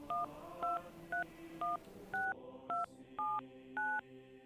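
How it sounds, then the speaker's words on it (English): A phone number is dialed on a handset, eight crisp touch-tone beeps in an even rhythm, each a short clear tone with brief gaps between, heard close and alone. "He dialed a number."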